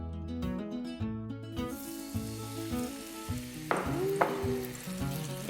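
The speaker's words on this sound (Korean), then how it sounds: "큰 잎 앞뒤로 반죽을 고루 묻힌 후 뜨겁게 달군 팬에 올려주는데요." Batter-coated large leaves laid into a hot oiled pan as Korean-style pancakes, with a steady close sizzle of frying that rises into sharper bursts near the end, under a bed of music.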